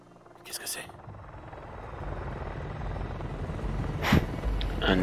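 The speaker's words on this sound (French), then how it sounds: "Un hélicoptère." Helicopter in the video game Shadow of the Tomb Raider, its rotor rumble swelling steadily louder as it closes in, with a few brief sharp bursts of game sound breaking through.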